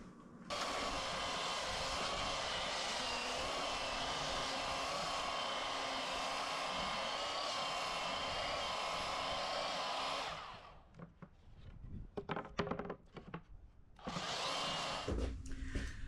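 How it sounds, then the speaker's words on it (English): Belt sander smoothing a glued-up wood panel outdoors, a loud steady roaring drone for about ten seconds, then stopping, followed by clattering handling noises and a short restart. "I'm going to take this outside and hit it with the belt sander and just smooth this down"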